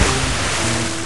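A loud, continuous rush of churning water fills the whole moment, a broad wash like surf or a plunge into the ocean in a video game, steady from start to finish with no talk.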